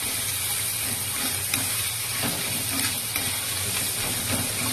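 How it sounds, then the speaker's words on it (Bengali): Fish curry sautéing in a pan with coriander leaves scattered on top, a steady soft sizzle and frying hiss with faint stirring, moderately quiet and without talk. "ধনে পাতা ছড়িয়ে অল্প কষতে হবে।"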